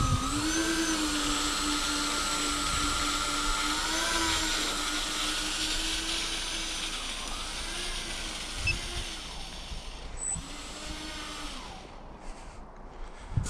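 Twin electric motors of an E-flite Twin Otter RC plane whine loudly and steadily on snow, the pitch dipping and rising a few times before throttling down near the end.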